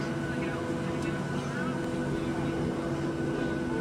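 Airliner engines in the Prepare for Impact video game as the plane leaves the gate, a steady droning turbine hum, loud and continuous, under a voice making a cabin announcement.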